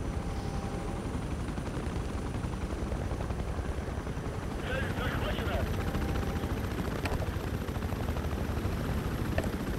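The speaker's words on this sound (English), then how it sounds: "I'm going to try and spam some rockets again" Attack helicopter in the video game Battlefield Play4Free, its continuous rotor roar running throughout while a few sharp rocket launches crack out partway through.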